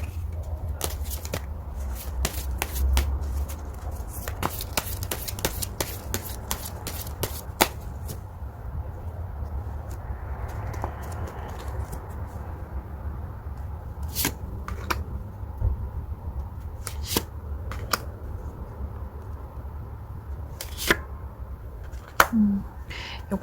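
Tarot cards are shuffled by hand in a series of quick, crisp riffles and flicks. The shuffling is close and fairly quiet, with brief pauses between bursts.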